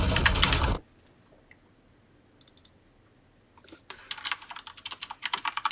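Fingers typing on a computer keyboard, starting with a sparse click or two and building into a quick run of loud, close keystrokes after a brief burst of noise and a quiet pause.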